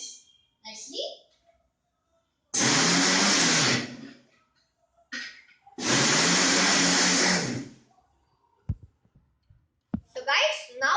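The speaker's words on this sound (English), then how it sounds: "now we'll be running the mixer" A kitchen mixer grinder pulses heavy cream for homemade ghee in two loud, whirring bursts of roughly two seconds each, separated by brief pauses with faint handling sounds and short bits of talk.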